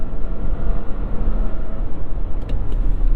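Audi Q7 engine pulling hard at wide open throttle after a kickdown, a loud, steady low-frequency roar with road noise that holds for several seconds without speech.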